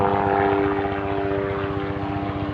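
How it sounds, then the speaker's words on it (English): A helicopter passing overhead, a loud, steady rhythmic rotor thump with droning engine noise that fills the whole moment, with no speech over it. "pardon the helicopter"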